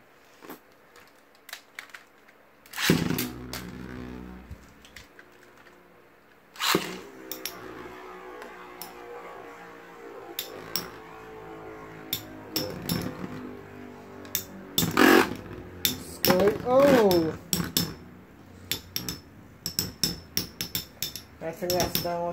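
Beyblade tops from a stock combo tournament spin and collide inside a worn, patched-up stadium, giving sharp metallic clinks and rattling clashes in scattered bursts, with some loud impacts and a brief voice now and then.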